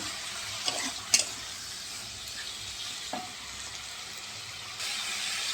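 Spring onion stalks and potato pieces frying in a pan give off a steady close sizzle, broken by a few sharp clinks of stirring and a louder hiss near the end.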